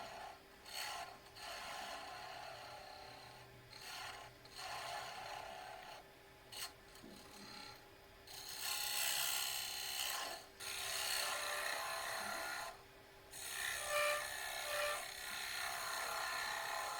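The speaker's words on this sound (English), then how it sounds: "Right now I'm using a detail spindle gouge for this." A detail spindle gouge cuts wood on a lathe while turning garlic keepers, a raspy scraping hiss that comes in repeated passes of varying length, broken by brief lulls, with a steady faint motor hum underneath.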